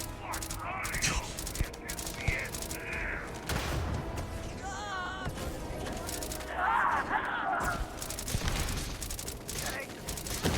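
Shots from an enemy-cooking gun in Starfield's Shattered Space DLC rattle in repeated bursts with mechanical clanks and whirring, mixed with game effects, while a person talks over it.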